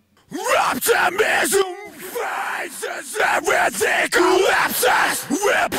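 Harsh, heavily distorted and compressed screamed metal vocals in aggressive bursts, loud, with brief pauses between phrases.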